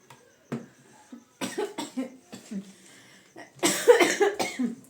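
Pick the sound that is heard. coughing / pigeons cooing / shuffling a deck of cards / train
coughing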